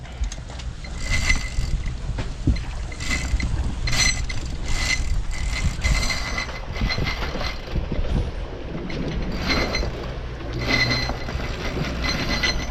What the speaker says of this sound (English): Put it on the winch. It's gonna be heavy.